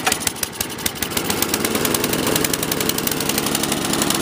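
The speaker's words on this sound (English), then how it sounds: "let's fire this sucker up here and see how it starts" MTD Deluxe Gold Series snowblower engine catching on choke and settling into a loud, close, rapid idle chatter that runs steadily throughout.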